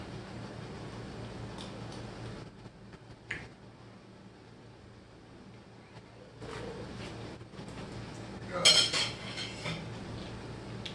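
A spoon stirring Moorish sauce in a pot makes soft scrapes and clinks, with a sharper metallic clatter near the end over a quiet room hum.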